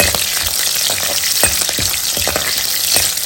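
Crushed garlic cloves with their skins on frying in hot oil in a pan, giving a loud, close, constant sizzle marked by repeated stirring scrapes and clanks.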